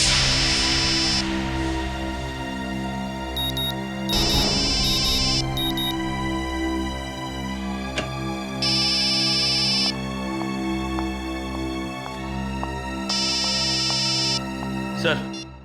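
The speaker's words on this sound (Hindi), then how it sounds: "सर, संध्या फोन नहीं उठा रही है सर" An electronic ringtone repeats in regular bursts over a steady background tone, ringing several times without being answered.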